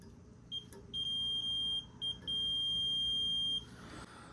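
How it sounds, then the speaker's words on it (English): Continuity beeps from a voltmeter under test, a high steady tone sounding in three bursts: a short one, a long one, a brief blip and then a sustained beep, all against quiet room hum. "So we'll go ahead and just check for continuity, listen for the audible."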